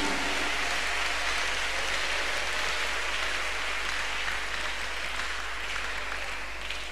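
Continuous, dense hand clapping from a church congregation at a Tuesday miracle service, a steady wash of applause that sounds like rain and holds evenly throughout.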